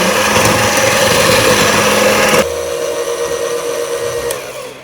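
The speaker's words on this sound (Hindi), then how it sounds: "जब तक हम इसे बीट कर रहे हैं" An electric beater whips coffee for a homemade cappuccino, a steady high motor whine that runs loud and close, then drops abruptly to a quieter, duller whir about halfway through.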